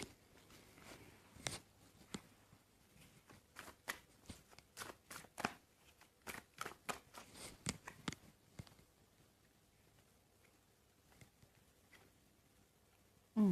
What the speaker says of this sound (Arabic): طيب عايزه اسحب كروت كمان